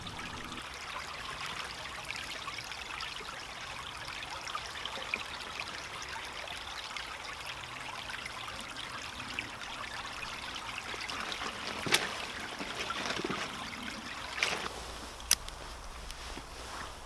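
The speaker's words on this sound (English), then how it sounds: "So I'll come down to the stream and I'm going to get some water for filtering off." Small stream trickling and babbling nearby, a faint continuous flow with a few soft knocks and splashes as water is collected, no talk.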